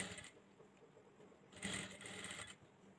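Sewing machine stitching piping onto the main piece of a boat-neck puff-sleeve blouse, quiet close whirring in short bursts with a brief louder run in the middle, no talk.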